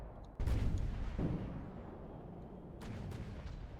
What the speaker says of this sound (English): So, okay, so there go the torpedoes.